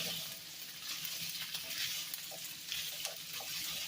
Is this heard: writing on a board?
no